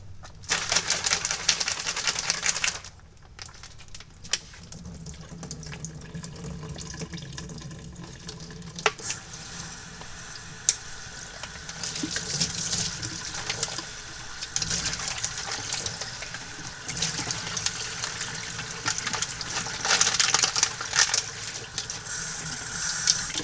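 Tap water runs steadily as Nike Foamposite Pro gray wool shoes are rinsed under it, a continuous close hiss with occasional sharp clicks and splashes, briefly dipping near the start.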